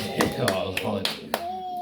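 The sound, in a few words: hand clapping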